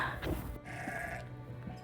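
A single faint sheep bleat comes from a farm stall housing sheep and calves before a storm. It is brief and somewhat distant, with quiet barn ambience around it.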